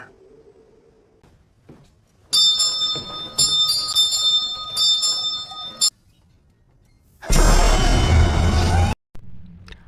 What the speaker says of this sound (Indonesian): sambil menunjuk ke arah lonceng kamar bulan madu yang berbunyi